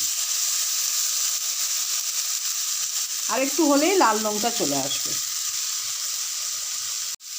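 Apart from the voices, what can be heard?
eggplant frying in a pan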